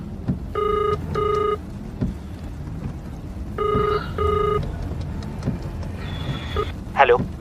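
A phone ringback tone purrs in repeated double pulses during a call to Rahul, two pairs of rings separated by a pause, followed by a short electronic chirp, with no one speaking.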